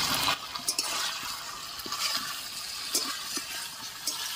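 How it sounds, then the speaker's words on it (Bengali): Fried fish goes into a sizzling mustard gravy, producing a quiet, continuous sizzle with soft stirring and faint clinks of a utensil against the pan. "এবারে আমি ভেজে রাখা মাছগুলি দিয়ে দিচ্ছি।"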